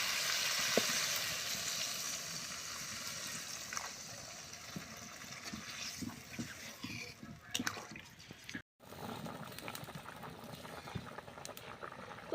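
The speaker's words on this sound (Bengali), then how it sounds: "তো ঝোলে বলক চলে আসছে" Fish curry broth with new potatoes and flat beans coming to a boil in a pot, a steady bubbling rumble, close and moderately quiet, with a brief break near the end and faint voice in the background.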